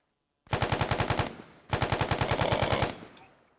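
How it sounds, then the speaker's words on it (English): Heavy automatic guns firing in a video game, heard as two loud rapid bursts of evenly spaced shots, the first about a second long and the second slightly longer, with a brief pause between them and a short fading tail. "You got the big guns, Vindy."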